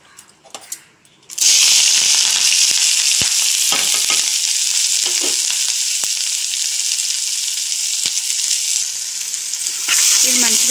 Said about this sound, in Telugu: దీంట్లో ఇప్పుడు ఆయిల్ హీట్ అయింది కదా, దీంట్లో ఇప్పుడు ఆనియన్స్ అనేది మనం వేసేసుకుందాం